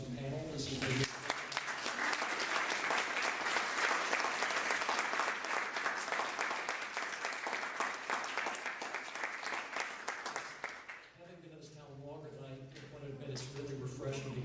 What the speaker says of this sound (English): have a round of applause for the panel